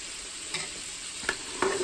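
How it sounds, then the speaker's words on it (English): A whole stick of cut-up butter melting in a metal pot, a soft continuous sizzle with a few brief stirring scrapes, quiet and close. "Give it a stir."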